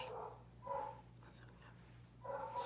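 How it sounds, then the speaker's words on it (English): A dog barks in two short, faint bursts separated by a pause, sounding distant over a low steady hum with no talking. "my dog would start barking as soon as I start"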